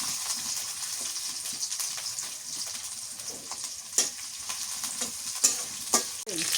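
Onion and green chilli fry in a pan, a bright, close sizzle with steady stirring and a few sharp clicks of a spatula against the metal.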